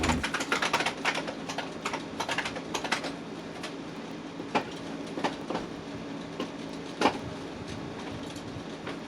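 Fast typing on a computer keyboard, a dense run of clattering key clicks with a few sharper, louder strokes, close and continuous with no voices.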